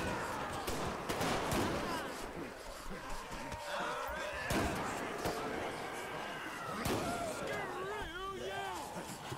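Gunfire against a zombie horde on an island in GTA 5, repeated sharp shots in bursts mixed with chaotic crowd noise and other game sounds, while voices talk over the action.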